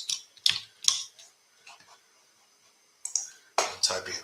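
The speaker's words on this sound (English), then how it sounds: "I'm typing in all caps today." Close, fairly quiet typing on a computer keyboard in an office setting, with sharp clustered key clicks separated by brief pauses and a burst of faster keystrokes near the end.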